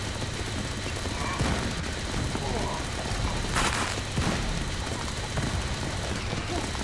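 Tank rifle firing in the video game Madness: Project Nexus, loud dense shots punching through a constant roar of combat noise, with a voice talking over it.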